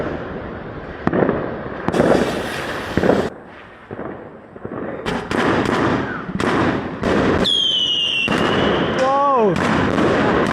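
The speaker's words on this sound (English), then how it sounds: "This is the biggest firework we've got." A large firework going off at a rural Chinese New Year celebration, with broadband bursts and crackling mixed with people talking and exclaiming, then rising whistles near the end.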